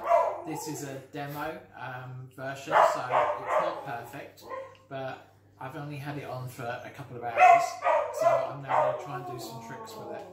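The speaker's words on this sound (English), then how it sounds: "excuse the dog in the background" A dog barks intermittently in the background, fairly faint and partly masked, while someone talks continuously in the foreground.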